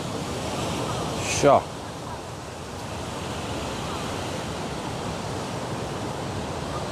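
Steady ocean surf washing onto the sand at Shelly Beach, a continuous broadband roar with wind, while a person briefly speaks over it near the middle.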